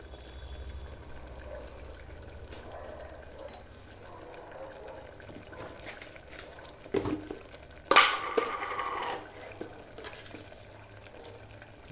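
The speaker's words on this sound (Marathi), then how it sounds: "मसाल्यापैकी छानपैकी तेलामध्ये मस्तपैकी फ्राय करून घ्यायचं आहे आपल्याला." Coriander powder and turmeric frying in hot oil for a Marathi-style peas curry: a faint, low sizzle with a brief louder burst of splashing and stirring near the middle, then settling back to a quiet hiss.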